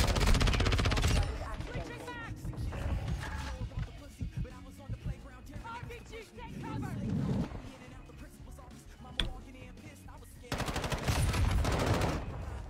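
Video game gunfire in rapid automatic bursts, loud at the start and again near the end, with scattered single shots and voices in the quieter stretch between.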